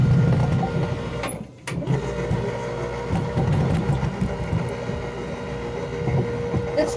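A mine cart rolls down into a North Carolina gold mine, giving a steady close mechanical rumble and droning motor hum with rattling clanks throughout, briefly dipping before resuming.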